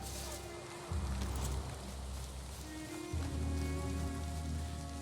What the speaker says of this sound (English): Oh, because it's raining here.